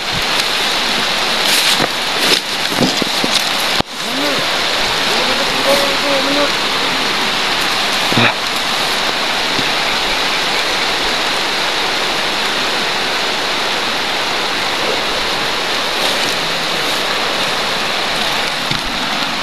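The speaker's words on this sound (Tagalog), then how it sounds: "Lumakas na yung ulan." Heavy rain pours down in a loud, constant hiss, with a few sharp knocks early on.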